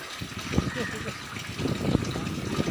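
Floodwater gushes and rushes around Khamidana village in Keshod taluka, a steady close wash of moving water heard under a voice speaking.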